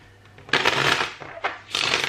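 A deck of tarot cards is shuffled up close, giving two loud bursts of riffling, flapping card noise separated by a short pause, with no talking over it.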